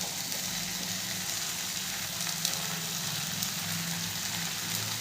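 Fried okra goes into a pan of potatoes and spices, Dhaba style, sizzling and frying in a steady, dense hiss throughout with a low hum underneath.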